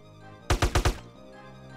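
A quick burst of four loud, sharp gunshots in GTA: San Andreas, evenly spaced within half a second, standing out against a quiet background.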